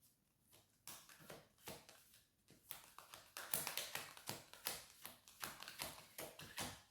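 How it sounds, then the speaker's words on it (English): Tarot cards pulled from a deck, giving a series of close, crisp taps and flicks, irregular and clustered, starting soft and growing busier, with no talking over them. "Let me just pull a couple of cards from here"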